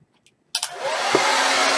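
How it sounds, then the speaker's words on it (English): A blow dryer used to heat a vinyl decal on a pumpkin clicks on after faint taps and runs as a loud, steady whooshing roar close by. "Now we got this blow dryer."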